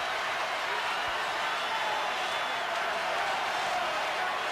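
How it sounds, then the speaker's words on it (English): A football crowd at Dalymount cheers in a dense, steady roar, with red and white flags and banners around. Continuous and fairly distant, the cheering has no clear breaks. "A huge cheer."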